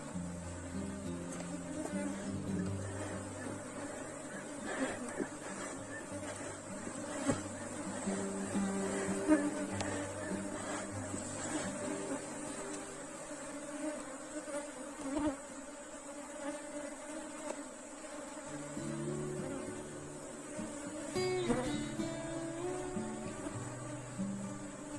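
A honeybee swarm hums steadily at a hive box, a dense close buzz holding for the whole stretch with faint voices beneath it.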